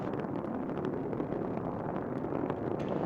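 Space Shuttle Atlantis main engines roar during launch from Kennedy Space Center: a steady, dense, crackling rumble heard from a distance, continuous and unbroken throughout.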